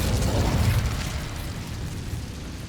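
In Hogwarts Legacy, an Incendio fire spell goes off as a loud, close, rushing burst of flame that roars then fades over a couple of seconds.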